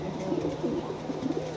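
Pigeons coo softly and steadily in a breeder's loft, the low throaty calls overlapping in a continuous murmur with no talk over them.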